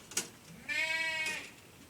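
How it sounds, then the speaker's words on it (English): Goats bleat in a long wavering cry, preceded by a short sharp knock, heard at moderate distance over a quiet background hiss. "Probably hear my goats in the background. They're going crazy."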